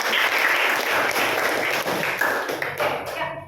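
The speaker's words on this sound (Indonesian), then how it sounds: "berikan aplaus untuk kalian semua" Students in an Indonesian classroom clap together in a lively, close burst with sharp individual hand slaps and a few thuds, fading out toward the end.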